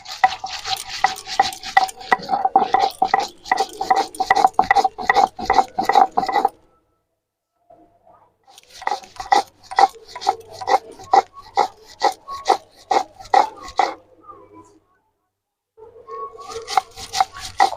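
White and black mustard seeds, poppy seeds and green chili ground into paste on a stone, a close, loud rhythmic scraping and grinding in steady strokes, in three bursts separated by short pauses.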